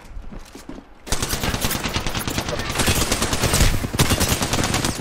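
Automatic gunfire in Apex Legends, with a brief lull followed by sustained, loud rapid bursts that sound close and dense, with no voices.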